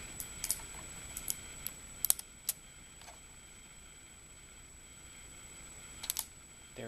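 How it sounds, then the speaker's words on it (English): Plastic packaging being peeled and pulled off a Steam Link, sparse sharp crinkles and clicks up close over a quiet background. "we will do some ASMR of taking out the plastic"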